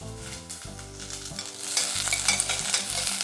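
Sliced onion and whole garam masala spices sautéing in a pot for mild chicken soup, a steady sizzle with stirring scrapes that grows louder partway through, close and without voices.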